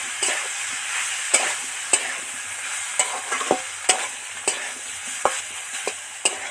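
Steamed elephant-foot yam and potato frying in a pan, a constant sizzle punctuated by regular sharp scrapes and knocks of a spatula stirring, close and alone.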